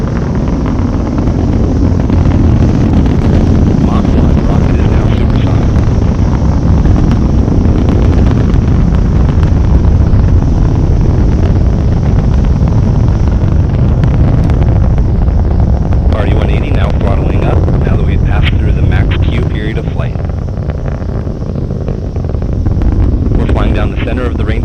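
Atlas V 551 rocket launching Amazon Leo satellites, a sustained, loud, broadband roar that stays steady throughout, heard from a distance with buffeting wind-like rumble.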